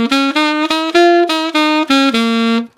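Saxophone playing a short swung jazz phrase of about eight tongued notes that step between pitches in an uneven long-short rhythm, close and solo, ending on a held note.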